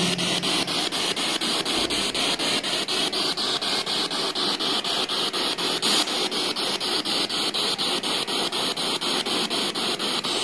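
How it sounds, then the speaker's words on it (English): A spirit box radio sweeps rapidly through stations during a ghost hunt in William Wallace Cave, giving a continuous loud wash of static cut by rhythmic chopping and steady high squeals, with no voices. "Let me just put that spirit box off."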